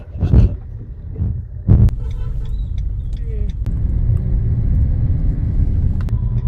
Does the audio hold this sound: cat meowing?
no